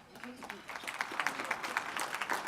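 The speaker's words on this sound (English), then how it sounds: "And you are applauding, thank you." An audience at a conference speech claps in a brief patter that builds and stays moderate and somewhat distant, with a voice talking over it.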